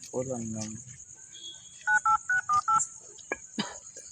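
A telephone number is dialed on a phone keypad: a quick run of five evenly spaced DTMF tone beeps, followed by a couple of clicks, with a man's speech at the start and a steady high hiss throughout.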